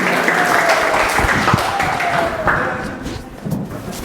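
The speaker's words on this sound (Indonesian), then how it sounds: "beri tepuk tangan kepada kelompoknya DWD." A class claps for a student group after a presentation in a school fitness lesson, a loud even wash of applause with some background voices and a few thumps, easing slightly toward the end.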